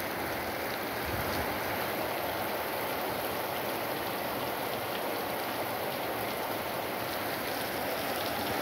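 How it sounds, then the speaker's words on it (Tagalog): Heavy rain pouring down in a steady, dense hiss of drops hitting surfaces, constant and unbroken throughout, fairly loud and enveloping, with no voices. "Lakas-lakas ng ulan ito sa amin."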